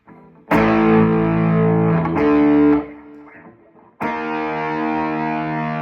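Distorted electric guitar plays sustained, gritty blues notes and bends, a pause, then a held dissonant flat fifth rings out loud and close.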